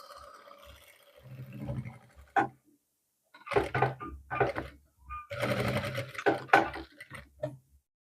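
Sewing machine stitching the collar of a Mandarin-collar shirt, running in several short bursts with brief pauses between them, close and moderately loud with no talking.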